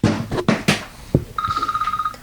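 An incoming call rings as a steady run of rapid electronic chirps, fairly close and clear, following a few sharp knocks and thumps.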